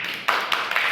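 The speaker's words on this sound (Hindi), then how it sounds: "इनके लिए जोरदार तालियां।" Classroom applause for a student: a short burst of many hands clapping together that starts after a brief quiet moment, close and fairly loud for about the last second.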